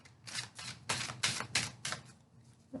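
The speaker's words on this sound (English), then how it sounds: "A few more shuffles." Tarot cards being shuffled, a series of crisp riffling bursts of about half a second each, with short pauses between them, close and fairly quiet with no talking.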